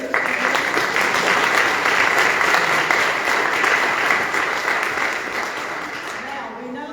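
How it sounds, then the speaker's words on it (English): An audience applauds steadily for Miss Kim at a Black History Month gospel night, a dense sustained wash of many hands clapping that holds strong throughout and eases slightly near the end. "Let's give a round of applause to Miss Kim and the great job that she continues to do."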